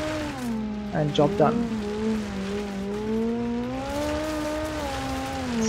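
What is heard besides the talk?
rally car sliding and accelerating in the video game BeamNG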